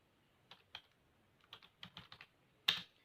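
Code is typed on a computer keyboard in quiet, irregular bursts of soft keystrokes with short pauses between them, ending in one louder, sharper key press.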